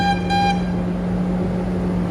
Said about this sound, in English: an awful sounding air horn